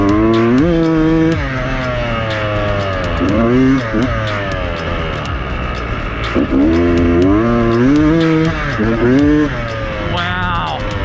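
A Beta 300 dirt bike engine is opened up at full throttle, its loud, buzzing two-stroke note surging up and dropping back in repeated rising and falling revs close by.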